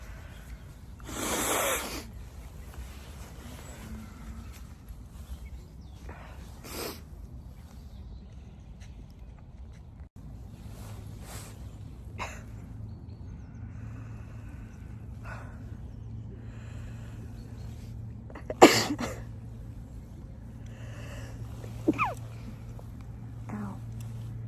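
Sneezes from someone out birdwatching outdoors, a sharp loud burst near the start and another sudden one near the end, with a few fainter nose-blowing or sniffing sounds between over a quiet, low outdoor hum.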